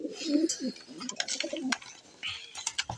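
Racing pigeons coo in soft, repeated throaty calls close by, with light clatter and some higher chirps mixed in.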